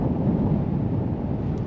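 Strong wind buffeting the microphone on open ice during winter crappie fishing, a constant low roaring gust with no other sounds.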